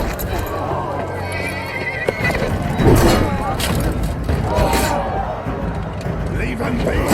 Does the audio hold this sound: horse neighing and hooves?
yes